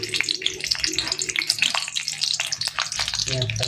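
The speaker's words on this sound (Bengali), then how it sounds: "তেলের উপর দিয়ে দেবো দুটো শুকনো লঙ্কা, কাঁচা লঙ্কা দিয়ে দেবো" Dry and green chilies fry in hot oil in a Bengali home kitchen, a close crackling sizzle with bursts of spattering and a stirring clatter near the end.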